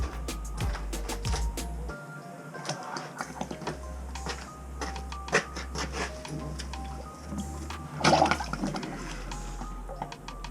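Water rushes down a main sewer line just cleared with a curb plunger, a steady flowing hiss with scattered clanks and knocks from nearby gear, briefly swelling louder near the end.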